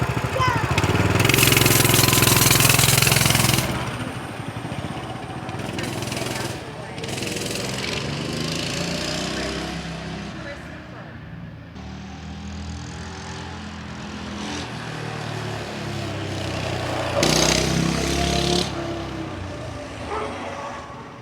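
A Coleman CT200U gas trail bike engine kicks over loudly, then settles into a steady mid-pitched running drone with occasional revving surges, heard close up with a person talking over parts of it.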